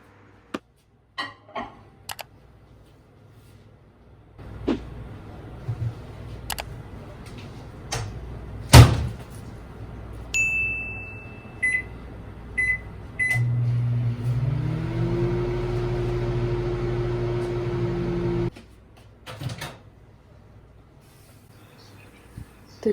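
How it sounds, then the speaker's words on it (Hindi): A microwave oven heating homemade mawa (khoya) for 30 seconds: door clicks and a slam, a few beeps, then a steady low hum for several seconds before the run ends and the door sounds again. "इसको अब हम माइक्रोवेव में दोबारा से रखेंगे"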